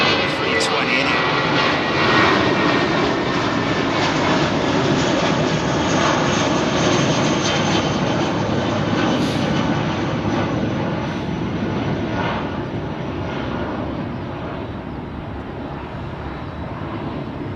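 An Airbus A320 jet departs from runway 27R at London Heathrow Airport, a loud broad engine roar that slowly fades over the clip.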